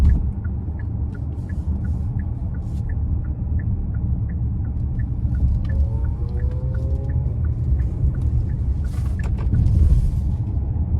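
A 2025 Hyundai Palisade Limited with its V6 engine, driving in eco mode, drones with a steady low rumble from inside the cabin, swelling slightly as it accelerates out of a corner, with faint clicks and a brief whine.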